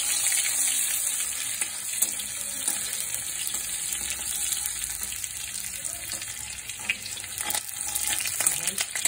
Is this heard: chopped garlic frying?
yes